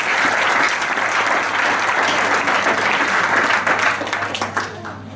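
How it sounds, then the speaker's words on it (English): A church congregation applauding for Jesus Christ, a dense, loud burst of many hands clapping together that holds steady before tapering off at the end, with no speech over it. "Can you clap that hand for Jesus Christ once again?"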